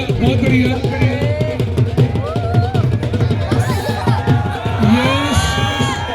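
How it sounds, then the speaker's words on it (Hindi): At an outdoor village dangal wrestling match, a noisy crowd cheers and shouts continuously, with a loud announcer's voice calling over the din throughout. "ऑडियंस भी तालियां लगाती रहे शाबाश शाबाश"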